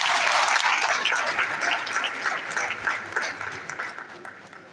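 Sustained, full applause from a crowd of parents and graduates at a veterinary oath-taking ceremony, loud at first and slowly tapering over several seconds without talk.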